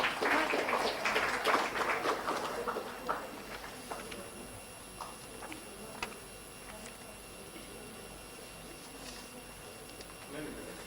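Audience applause for the winners at a conference closing ceremony, a burst of clapping at the start that thins out into a few scattered claps in a quiet hall.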